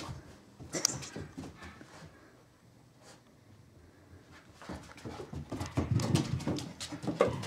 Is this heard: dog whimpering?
yes